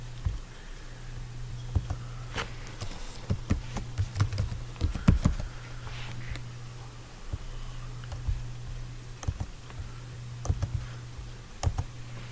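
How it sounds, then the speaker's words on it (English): Keys clatter on a computer keyboard in quick irregular bursts of clicks, close and moderately loud over a steady low electrical hum, with no voices. "And then you just type sources at the top of your sheet."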